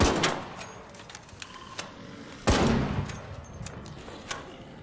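Gunfire in an online video game: a few scattered shots with one sharper crack in the middle, sounding as sparse single reports rather than steady automatic fire.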